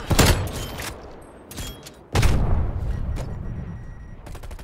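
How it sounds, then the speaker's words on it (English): Explosive sniper rounds in the Call of Duty video game: a loud burst of gunfire and blasts opens, a second heavy explosion hits about two seconds in, then rumbling debris and rapid shots trail off, with no talking. "He has explosive rounds on his sniper."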